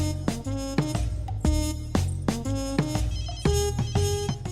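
Phone ringtone ringing alone, a loud repeating melodic tone pattern of bright pulsed notes with a steady rhythm and no talk over it.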